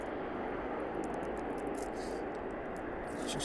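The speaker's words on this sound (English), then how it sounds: "a smooth touchdown from the Ryanair there as well" A Ryanair airliner landing at East Midlands Airport fills the air with a continuous loud engine roar and rushing air, holding steady throughout without talk.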